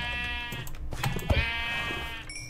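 Sheep bleat in the video game Minecraft, several harmonic wavering calls overlapping over about two seconds, fairly close and clear, with a brief bright chime near the end.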